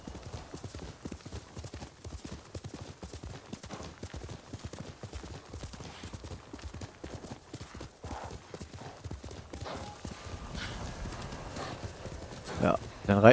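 Horse hooves clip-clopping at a steady trot through a farmstead in the video game Ghost of Tsushima, a continuous rhythmic patter in the foreground while someone talks over it.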